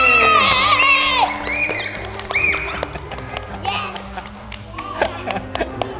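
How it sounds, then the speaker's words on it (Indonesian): Young children in a preschool group clap loudly at first, with excited high voices and squeals over the applause, which then fades into scattered claps and chatter. "Tepuk tangan untuk kelompok G."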